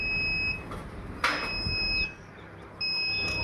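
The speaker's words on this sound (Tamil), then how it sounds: "டோர் ஓப்பன் பண்ணி வச்சுருக்கனால இப்போ அலாரம் அடிக்குது" A steady high electronic alarm tone beeps on and off over a constant background hum, with a brief clatter in between.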